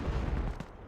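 A 25-pounder artillery gun firing in Company of Heroes, heard as one dense booming blast with a rumbling tail that fades quickly, loud and close.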